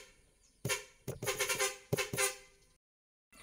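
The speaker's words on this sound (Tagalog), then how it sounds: "Tapos tutunog na yung busina ko." A truck air horn wired through a relay blasts several times: a short honk, then a series of loud, close, blaring toots in quick clusters, before the sound cuts out abruptly.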